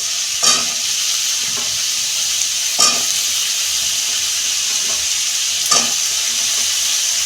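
Potato and papaya fry together in a pan with a steady, close sizzling hiss, broken by three sharp stirring scrapes spaced a few seconds apart.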